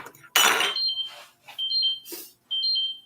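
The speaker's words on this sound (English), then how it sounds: "my alarm keeps going off" An electronic alarm chirps in three short, high-pitched beeps, with sharp bursts of noise between them, fairly close and loud.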